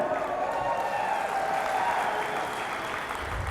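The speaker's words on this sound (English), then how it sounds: "A little round of applause for Kyle." A crowd at a Century 21 real estate agent rally claps steadily, a dense wash of applause at moderate volume that carries on without pause.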